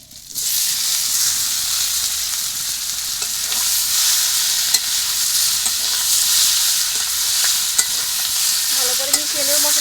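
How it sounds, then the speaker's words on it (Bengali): Bottle gourd stems and potatoes go into a pan of fried spices, giving a loud, continuous sizzle and hiss with a few clicks of stirring throughout. "মশলাগুলো আমার ভাজা হয়ে গেছে এখন আমি দিয়ে দেব লাউ ডাটা আর আলুগুলো"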